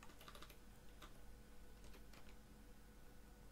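Keys on a computer keyboard are pressed in a Blender compositing session: a few light, faint clicks, a small cluster early on and a couple of isolated taps later, against quiet room tone with no talking.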